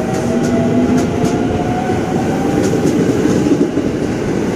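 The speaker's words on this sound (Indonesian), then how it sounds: "Ini berangkatkan kembali KRL-nya tujuan Jakarta Kota dari stasiun Manggarai" A KRL electric commuter train departing Manggarai station, Jakarta, rumbles loudly and steadily up close, with clattering wheels and a faint squeal as it rolls along the track.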